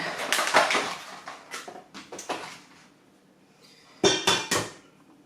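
Eggs cracked and dropped into a large mixing bowl for pumpkin muffin batter, giving a run of sharp clicks and taps at close range, a pause, then a few more quick knocks near the end.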